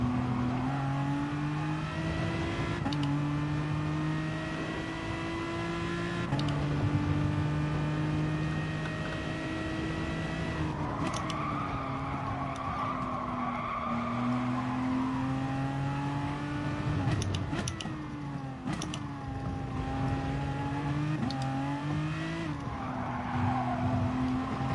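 A Peugeot race car engine in Gran Turismo drones steadily with repeated gear shifts and revving swells, plus brief tire squeal, heard continuously from inside the car without speech.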